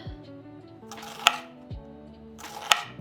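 A knife chopping onion finely on a cutting board, two crisp isolated knocks about a second and a half apart, close and clear over a quiet background with a faint low hum.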